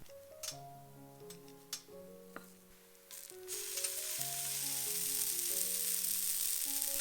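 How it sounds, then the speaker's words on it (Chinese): An American pancake fries in a pan, and a soft, even sizzle comes up after about three seconds of light background music, then holds steady to the end. "第一面煎3分半，"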